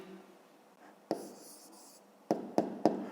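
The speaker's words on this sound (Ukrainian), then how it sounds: "Давайте тут запишу, пишемо відповідь." A pen writes an answer to a 5th-grade math exercise, a short scratchy stroke followed after a pause by three quick taps or strokes, close and clear in a quiet room.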